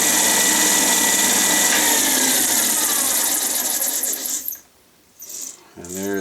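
A lathe spins a cue shaft while a piece of leather burnishes a layered cue tip, giving a steady close whirring rub that stops abruptly near the end, followed by a short voice.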